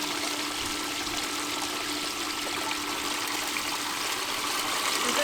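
Water rushes steadily through a gold cleanup sluice as concentrated material is fed in, a loud, continuous close-up wash and gurgle with no talking.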